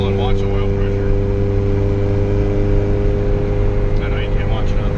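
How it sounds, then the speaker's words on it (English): A turbocharged Honda Civic engine pulling hard in third gear, a steady loud droning hum with strong tonal harmonics heard from inside the car, holding steady throughout. "Do a third gear pull and watch the oil pressure."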